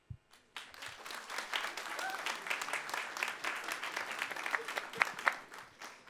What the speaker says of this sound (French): vous allez applaudir pour votre préféré